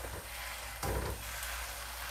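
Steady bubbling and simmering in a pot of boiling water with a brief clatter of stirring noodles, close and moderately quiet, no talking.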